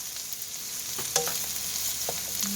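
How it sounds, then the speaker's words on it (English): Chopped cabbage frying fast in a pan over a medium-high to high burner for chicken fried rice, giving a steady close sizzle with a few light scrapes and clicks of stirring. "I'm going to throw my cabbage in and get that cooking."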